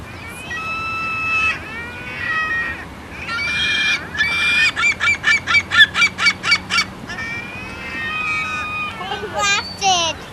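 Seagulls at Sugarhouse Park calling while being fed, loud near squawks and a run of rapid repeated cries, with a voice and people talking underneath.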